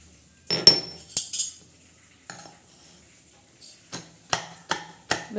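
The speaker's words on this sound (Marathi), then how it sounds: "आता काजू आपण आबडदोबड असे कुटणार आहोत" Cashews pounded coarsely for ladoos, a series of sharp metallic knocks and clinks from pestle strikes at irregular intervals, close and distinct with short quiet gaps between hits.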